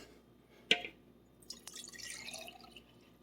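Salt brine left over from fermenting jalapeños is poured into a cup, with a sharp clink followed by a soft, close trickle of liquid that fades out, heard alone and quiet.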